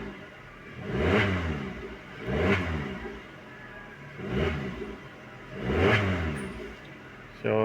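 A Suzuki Swift engine revs up and falls back four times in an even rhythm, each rise swelling loudly close by before dropping back to idle, with a brief faint voice near the end.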